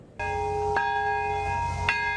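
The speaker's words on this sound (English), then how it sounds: "Bells tolled across the southern city." Church bells toll across the city of Nagasaki on an anniversary of the atomic bombing, three resonant strikes with long ringing overtones overlapping each other, heard clearly without voices.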